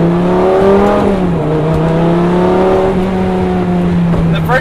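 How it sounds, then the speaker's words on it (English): A first-generation Lamborghini Gallardo V10 accelerates through the gears at night, its engine note rising steadily with a brief shift dip, loud and close from the driver's seat. "The first generation Gallardos have some of the best sounding V10s ever made."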